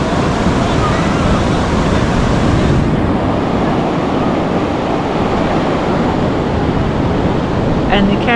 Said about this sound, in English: Woolgoolga Beach, scattered with seaweed, a noisy ocean